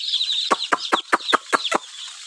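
Broiler chicks newly arrived at a poultry farm cheep in a steady run of about seven sharp, fairly close peeping calls over a constant chirping chorus, with no one talking.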